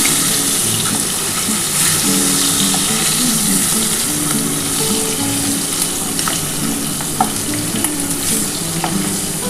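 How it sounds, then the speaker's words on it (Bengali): Two pieces of catla fish fry in hot oil, giving a steady, loud, close sizzle with faint spatter pops and occasional clinks throughout, with no talking. "এই যে 2 পিস মাছ আর বাকি ছিল, এটা আমি ভেজে নিচ্ছি।"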